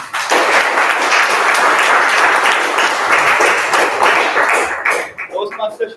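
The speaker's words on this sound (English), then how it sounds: "Clap, guys." A club meeting audience of Toastmasters claps loudly and densely for about five seconds, then the clapping thins to a few scattered taps and a faint voice as it dies away.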